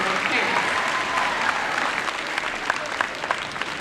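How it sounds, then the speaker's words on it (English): Applause from a school audience for teachers and parents, a steady wash of clapping that fades slightly and thins toward the end, with a voice faintly present underneath. "Big round of applause for your teachers and your"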